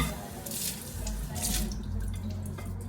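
Tap water runs steadily in a kitchen sink as a plate is rinsed, a close continuous splashing rush with slight shifts as the plate moves under the stream, with no voices.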